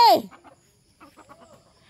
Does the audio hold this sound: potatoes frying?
no